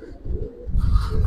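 Pigeons, including Giribaz silver and other fancy pigeon breeds kept in a loft, coo softly and then more loudly in a short close burst, with no speech.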